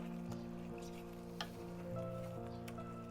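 Chili lime chicken stir-frying in a pan gives a quiet, steady sizzle with a few soft stirring knocks, under a constant tonal background hum.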